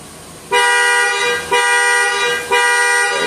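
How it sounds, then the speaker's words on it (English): A Nissan Murano's horn blares from the key fob panic alarm in three long, loud, evenly spaced honks, each lasting about a second with short gaps between. "The next thing is the panic alarm."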